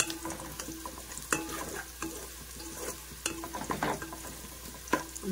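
Vegetables frying in oil and ghee for veg biryani, a soft close sizzle broken by repeated spatula stirs and scrapes against the pan at an uneven pace.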